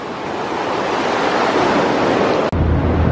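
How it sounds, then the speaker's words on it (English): Big turbines inside a hydroelectric dam on Oregon's Columbia River Gorge give a loud, constant broadband roar like heavy machinery or rushing water in a large space, ending with a brief dropout and a deeper rumble. "we're inside the dam as you can hear. Those are the big turbines."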